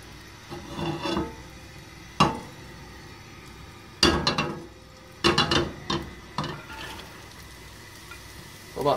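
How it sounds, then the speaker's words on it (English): Mirepoix vegetables cook in olive oil in a pot over medium-high heat, with soft sizzling and intermittent scraping and stirring bursts against the pot, close and moderately loud. "We're gonna cook the mirepoix."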